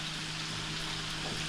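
Potato balls frying in oil in a nonstick pan make a soft, steady sizzle with a faint background hum and no voices.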